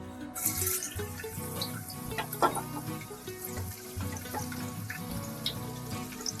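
Garlic dropped into heated oil in a pan gives a continuous close crackle and hiss with scattered popping, alone and without talk.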